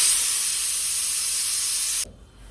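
A pressure cooker in a home kitchen, cooking chole, vents steam in a loud, steady high hiss that cuts off abruptly near the end, leaving quieter room noise.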